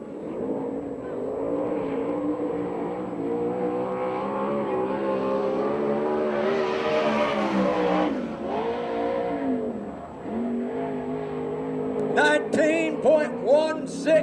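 A USAC/CRA sprint car runs a qualifying lap at a Phoenix, Arizona track, its engine screaming loud and high as it revs through the turns, dipping twice and rising again, with a voice faintly under it.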